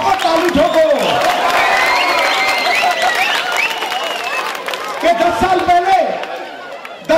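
Crowd clapping and cheering at a 2012 BJP election campaign rally in Ahmedabad, Gujarat, loud sustained applause with whoops, a raised voice carrying over it, fading briefly then swelling again near the end.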